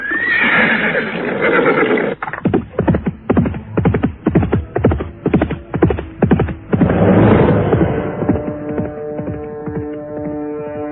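A horse gives a loud, close neigh, then a rhythmic run of hoof clip-clops follows before another drawn-out whinny rises and fades.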